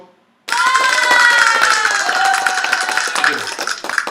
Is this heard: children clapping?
yes